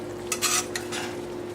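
Asparagus stirred in a pan of simmering juices: a few quick scraping, clinking strokes of a utensil against the pan over a soft background sizzle, close and fairly quiet.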